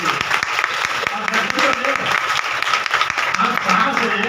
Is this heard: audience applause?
yes